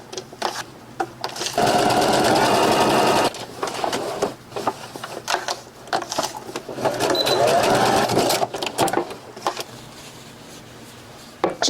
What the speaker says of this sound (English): So we are going to press the seam and then sew the front.